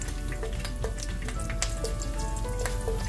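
Curry leaves crackle and sizzle in hot oil in a pan on the stove, a steady close frying hiss with scattered sharp pops throughout.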